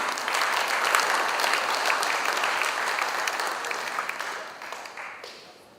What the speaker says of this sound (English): please give a big round of applause once again